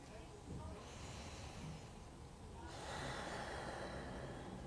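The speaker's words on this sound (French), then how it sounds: "Quand vous aurez expérimenté plusieurs fois Kapalabhati, vous pourrez après accélérer le rythme" Kapalabhati yoga breathing, a steady run of rapid, forceful nasal exhalations with a hissing, breathy texture that grows louder and denser partway through, close to the listener.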